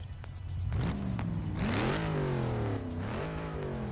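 A stock Dodge Challenger Hellcat in Forza Motorsport 6 revs hard while drifting, its engine climbing and dipping in pitch through several throttle pushes, loud and close with no talk.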